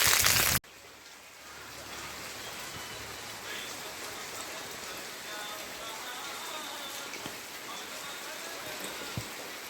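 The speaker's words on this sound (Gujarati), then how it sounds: "ને વરસાદ જુઓ હજી ચાલુ છે" Steady rain falls outdoors during a wet day near a college, a dense, even patter that holds for about nine seconds after a brief loud burst at the start; no one speaks.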